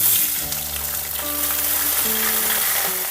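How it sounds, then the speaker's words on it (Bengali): Cut okra sizzling as it hits hot mustard oil in a pan, a loud close hiss and crackle that holds steady, with some tonal ringing alongside. "তেল গরম হয়ে গেছে এখন আমি এর মধ্যে কেটে নেওয়া ভেন্ডিগুলো দিয়ে দিলাম"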